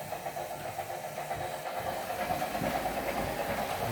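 A motorized LEGO Big Boy locomotive on an automated HO brick-built layout runs along the track with a steady motor whine and rattling wheels, growing slightly louder as it gathers speed.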